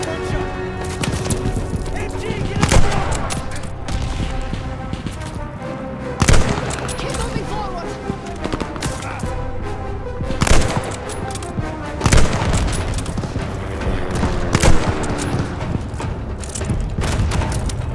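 Call of Duty: Vanguard gunfire crackles in repeated sharp bursts and single loud reports across the whole stretch, layered over music and battle noise, with heavy booming hits every few seconds.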